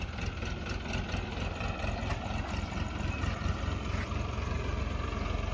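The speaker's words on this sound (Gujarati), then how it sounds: "આ વળી કોણ ટ્રેક્ટર લઈને અત્યારે આવે છે" A tractor engine runs steadily and fairly close throughout, a continuous low idling drone with no pauses and no voices over it.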